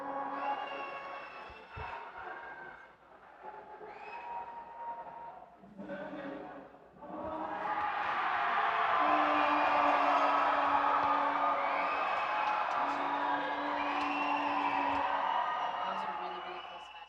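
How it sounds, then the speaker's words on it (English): A crowd at a wushu taolu competition between Brazil and the United States cheers and screams. Short bursts of shouting build into a sustained loud roar of whoops and yells, and a commentator talks in the middle of it. "That's why you're hearing so much screaming."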